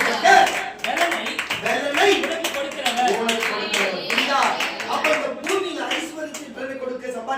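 Congregation clapping in faith during a Tamil church sermon, steady rapid handclaps from many people filling the clip under a preacher's loud voice.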